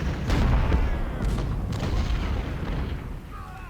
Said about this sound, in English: our artillery actually starts to bombard enemy guns